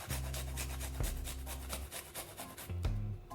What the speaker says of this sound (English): now we're going to be grating about 3 cloves of garlic in it to give it a taste